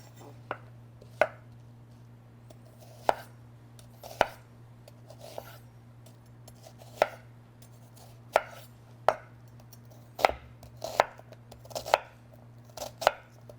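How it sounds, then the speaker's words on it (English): A knife chops zucchini and squash on a cutting board, slicing on the bias into quarter-inch pieces, with crisp, evenly spaced knocks sounding close and alone in a quiet kitchen. "we're now going to cut it on the bias with a 1/4 inch size"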